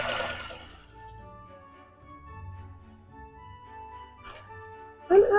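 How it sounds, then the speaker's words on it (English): An electric mixer on low whirs steadily while mixing cupcake batter as flour is added, a close, even hum that ends in a sudden louder clatter. "We're going to go ahead and turn on our mixer to low."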